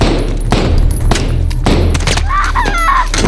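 Gunfire in Call of Duty: Modern Warfare, loud close shots and bursts cracking repeatedly over a heavy low rumble, with a voice speaking between them.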